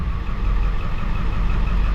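A 7.3 Powerstroke diesel engine with a miss runs at a steady idle, giving a dense low rumble with a slightly uneven, shaky pulse and no voices.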